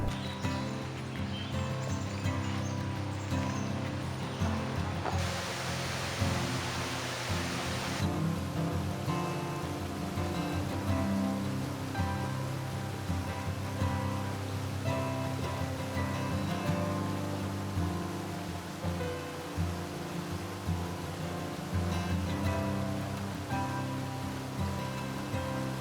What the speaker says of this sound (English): The 30-foot Cucumber Falls is part of Cucumber Run, which flows into the Yawk-i-gay-nee River.